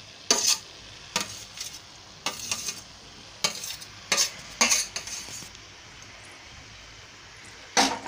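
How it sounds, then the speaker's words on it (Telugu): Carrot beetroot halwa stirred in a pan over low heat, a series of sharp scraping and clinking utensil strokes in irregular bursts over a quiet simmering background, no voices. "ఆ క్యారెట్ కూడా వేసి తిప్పాలండి బాగా."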